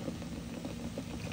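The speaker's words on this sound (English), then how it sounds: "it is sizzling up" Chicken and A&W root beer bubble and sizzle in a crockpot, a steady close frothy hiss with small pops throughout.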